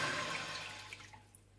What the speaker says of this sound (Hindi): सबसे पहले आप देचके में 1 गिलास पानी डाल दें